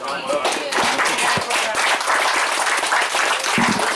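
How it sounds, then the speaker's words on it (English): Sustained applause from an audience for a presenter, a dense steady wash of many hands clapping at even loudness throughout, with a few voices mixed in underneath. "a big round of applause for Kane"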